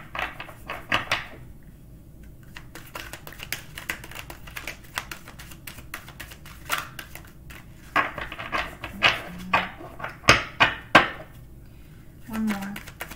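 A brand-new deck of tarot cards is shuffled by hand, giving irregular bursts of crisp riffling and tapping clicks that grow louder toward the end, close and fairly quiet.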